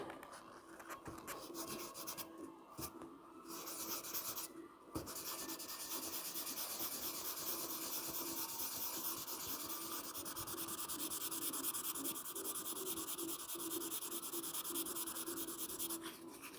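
Sandpaper rubbing over painted bodywork on a Saab 9-5, working a painted-over stone chip; a steady, close scratchy rasp runs almost continuously with a few brief pauses early on, no talking.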